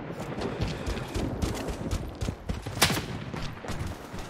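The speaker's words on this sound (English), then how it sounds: "Sniping me from somewhere and I don't know where." Rapid gunfire crackles and pops from the video game Project: BloodStrike, with sniper shots mixed into a dense, steady stream of distant and mid-range shots, one sharper crack standing out near the end.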